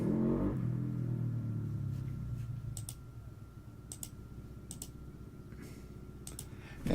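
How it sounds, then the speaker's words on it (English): A loud car passes in the background, a low engine rumble and rev that swells at the start and fades away, followed by quiet keyboard clicks and typing nearby. "an obnoxious car driver person in the background being loud and annoying"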